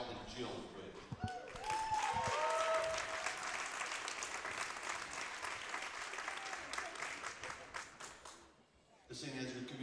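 Steady applause from a crowd at a school wrestling meet, honoring a senior wrestler; sustained clapping fills the room for several seconds, with a few whistles early on, before fading briefly and resuming.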